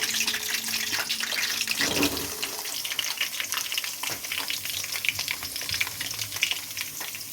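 Potatoes added to a hot wok (kadai) after cauliflower, frying over lowered gas: a steady, fairly loud hiss of sizzling oil runs throughout, with faint clinks and watery crackle, no voices.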